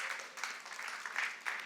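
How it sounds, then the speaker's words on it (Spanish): Church congregation applauding during a Spanish-language worship service, a steady wash of many hands clapping at moderate distance with a few louder bursts, no voices standing out. "Dale un aplauso al Señor"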